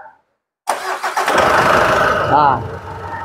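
Mitsubishi Pajero with a freshly overhauled 4D56U diesel engine cranking and catching, then settling into a close, steady idle after a brief quiet start, with a voice speaking over it.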